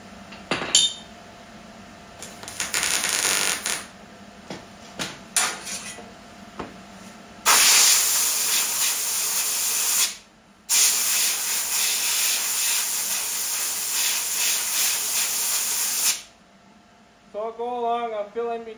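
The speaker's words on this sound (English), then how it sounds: "the blowing it cool keeps it from warping too badly" Compressed air blasts in loud hissing bursts to cool fresh welds on a metal panel, a few short puffs and then two long sustained blows, with knocks in between and a voice speaking near the end.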